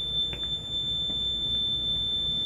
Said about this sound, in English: Audible alarm sound.